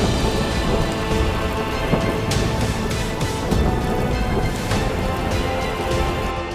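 Unseasonal rain pours in Gujarat's Saurashtra region during a thunderstorm, a dense, steady hiss of drops on surfaces filling the whole stretch, with no voices and no distinct thunderclap standing out.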